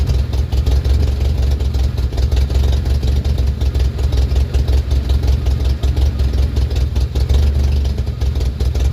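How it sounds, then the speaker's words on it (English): A loud, rough-running 1986 Jeep Comanche pickup engine rumbles steadily with an uneven, sputtering idle throughout, no voices. "So the engine runs like absolute shit"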